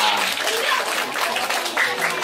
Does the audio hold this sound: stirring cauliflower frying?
no